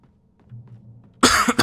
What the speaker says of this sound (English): I do have a little bit of a cough.